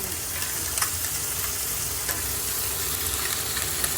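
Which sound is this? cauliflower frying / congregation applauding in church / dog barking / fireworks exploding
cauliflower frying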